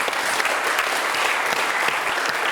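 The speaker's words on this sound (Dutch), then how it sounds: "En graag nog een keer een applaus voor alle winnaars van Jong." A crowd applauds the winners at the Frisian dictation contest of 2016, a loud, continuous, even round of clapping from many hands throughout.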